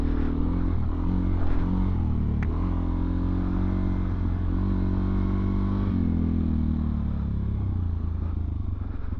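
Suzuki DRZ400SM motorcycle being ridden, its single-cylinder engine droning loudly and close with pitch rising and falling through gear changes, plus steady wind and road rumble.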